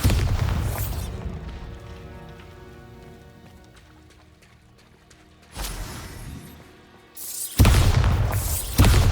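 Bombarda spell explosions burst in Hogwarts Legacy, a loud rumbling blast at the start, then two more sharp booms later with crackling debris between them.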